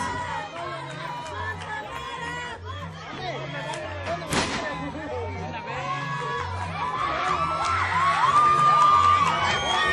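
A lively crowd at a lucha libre wrestling show shouts and cheers, with a sharp bang around the middle and the noise swelling louder toward the end, while a steady rhythmic beat plays underneath.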